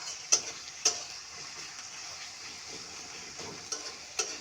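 Steady sizzling of chepa shutki dried fish frying with onion, green chilli and garlic in a pan, with a few sharp clicks and scrapes of stirring.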